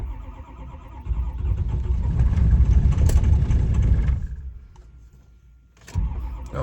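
A built 6.0 Powerstroke diesel fitted with a 6.7 starter cranks and catches in the cold, the engine note swelling and rumbling, then dropping away before a second short burst.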